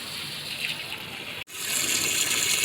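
Water gushes into a pot of herbs for a homemade desi kadha syrup, a close, continuous pour that breaks off briefly and then resumes more strongly.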